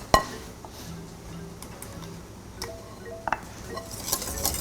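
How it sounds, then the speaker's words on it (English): Soft clinks and taps of a whisk against a bowl while yogurt, egg and oil are whisked together, faint irregular knocks over a quiet background with no talking. "So now I'm just gonna whisk it all together"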